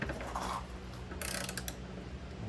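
A ratchet working loose the 10mm bolts on the heat shield of an R53 Mini Cooper S, giving a short burst of rapid clicking partway through over a steady background murmur.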